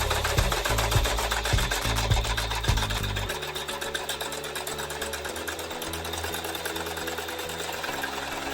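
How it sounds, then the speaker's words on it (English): Home sewing machine stitching one straight line on a fabric table runner, a fast, even mechanical chatter of the needle that runs continuously at close range, slightly lower and smoother after the first few seconds. "We're just gonna sew one straight line."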